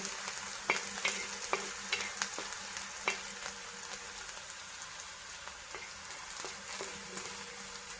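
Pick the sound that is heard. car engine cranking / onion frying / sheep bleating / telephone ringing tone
onion frying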